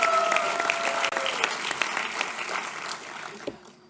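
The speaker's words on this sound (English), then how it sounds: "How about a huge round of applause for baseball?" An audience at a high school scholarship night applauds the baseball team, dense clapping with a few scattered cheers, loud at first and tapering off toward the end.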